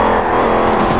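Supercharged Dodge Hellcat engine in the Forza Horizon 4 racing game roars loudly and continuously, a dense, gritty drone with supercharger whine, held steady for a moment.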